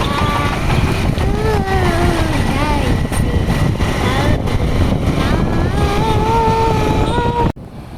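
A motorcycle rides along the road toward Digha, its engine drone and wind rush continuous and close throughout, with faint singing voices over it.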